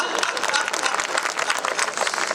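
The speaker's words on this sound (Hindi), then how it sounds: "सारी महिलाओं ने ज्यादा ताली बजाई" Audience applause at a Hindi poetry recital (kavi sammelan), a dense, loud burst of crowd clapping filling the whole short stretch.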